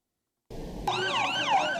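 An ambulance siren wails in a street after mass pager explosions, starting suddenly and rising and falling in a clear sweeping tone, fairly close and alone.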